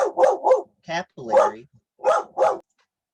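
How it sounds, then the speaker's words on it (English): A dog barks in several sharp, close bursts, some clipped and yippy, with brief gaps between them indoors. "my dog decided to bark"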